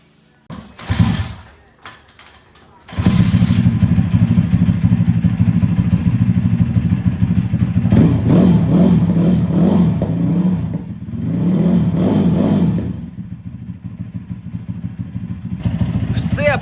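A YX160 motorcycle engine fitted to a Delta scooter cranks with a few sputters, then catches and runs loudly close by, revving up twice before settling back to a steady idle.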